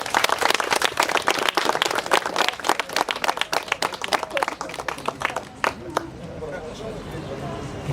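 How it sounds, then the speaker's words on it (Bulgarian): Warm applause from the audience at the Eco Drive Bulgaria award ceremony, a dense burst of close clapping that thins out and fades into room murmur after about six seconds. "нека малко по-силни да бъдат аплодисментите за нашите приятели от БРЦ"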